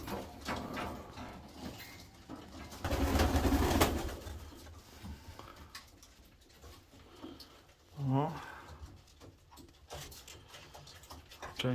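Racing pigeons coo softly nearby, feeding in a loft amid rustling and shuffling, with a person talking at times.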